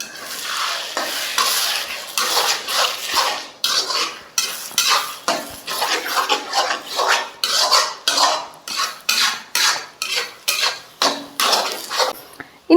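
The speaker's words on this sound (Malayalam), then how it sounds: "ഇനി എല്ലാം കൂടി നന്നായിട്ടൊന്ന് ഇളക്കിയെടുക്കുക." Egg masala (egg thoran) with onions and salt is stirred in a pan, a spoon scraping the metal in loud, rhythmic repeated strokes over a light sizzle, with no talking.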